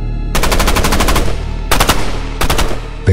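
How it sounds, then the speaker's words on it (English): Rapid bursts of gunfire crack out in three loud volleys, a long rattling string of shots followed by two shorter bursts, close and harsh with no voices. "Suddenly, multiple gunshots fill the air."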